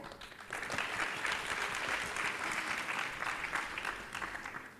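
An audience at an open-data conference session applauds, a dense, steady wash of clapping that holds for several seconds before starting to thin out.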